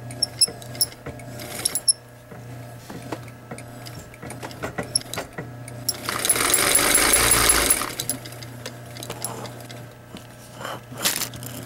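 Sewing machine with an English bobbin winder filling a bobbin: a loud, steady mechanical whir lasting about two seconds. Scattered clicks and handling knocks come before and after it.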